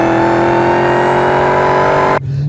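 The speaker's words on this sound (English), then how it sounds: "listen to the exhaust. Listen to the whine from that." A loud 2015 Dodge Challenger SRT Hellcat or 2015 Chevrolet Camaro ZL1 roars with a high, sustained supercharger whine over the deep exhaust, holding steady before the engine note abruptly drops.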